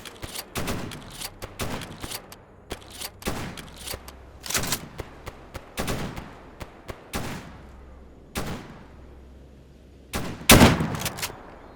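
Gunfire in S.T.A.L.K.E.R. Anomaly: a string of sharp single shots and short bursts, spaced irregularly with brief pauses between them and one louder, closer blast near the end.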